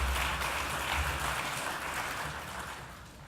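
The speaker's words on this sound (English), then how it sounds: "Can we give them a round of applause?" A conference audience at a bus industry event applauds, a dense continuous wash of clapping that holds steady for a few seconds and then gradually thins out.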